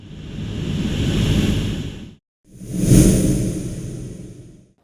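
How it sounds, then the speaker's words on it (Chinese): Two swelling whoosh sound effects laid over ocean wave footage, each rising and falling in a broad rush with a brief silent gap between them. "我们用了 whoosh 去衬托这里海浪突然的变速。"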